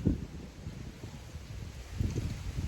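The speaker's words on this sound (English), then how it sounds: "it's a windy day in Guimarães" Low, gusty wind in Guimarães, Portugal buffets the microphone, rumbling in uneven bursts that swell near the start and again toward the end.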